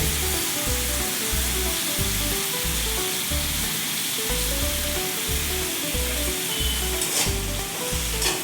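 Cluster beans cooked village-style with green chilli and garlic sizzle loudly in a pan over high heat, under a steady, regular rhythm of stirring strokes and a dense frying hiss.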